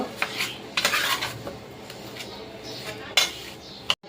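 A spoon scrapes and clinks repeatedly against a bowl while spices are mixed into a batter in a small home kitchen, an uneven, close stirring rhythm with occasional sharper knocks.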